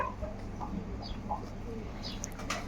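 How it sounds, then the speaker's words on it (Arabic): Soft, low cooing of a male pigeon murmurs faintly against a steady background hum, with a few faint chirps. "شوفوا هسه الطيور بدأ الفحل يطبل هاي السله، راح يزوج"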